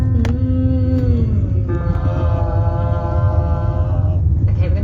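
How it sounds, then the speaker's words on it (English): A vocal resonance warm-up in which a voice makes a lip buzz that slides down into a low chest buzz, with a sustained droning hum and a few pitch shifts, close and loud. "Starts off with a buzzing in your lips and then take it down to a buzz in your chest."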